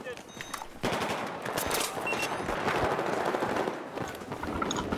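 Rapid bursts of automatic gunfire and scattered single shots crackle through a Battlefield 4 Domination match on Golmud Railway, some close and others distant, forming a dense, uneven firefight.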